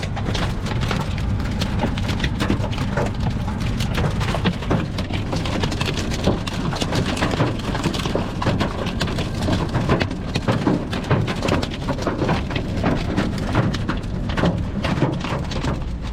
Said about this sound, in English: We're in the middle of a huge storm cell.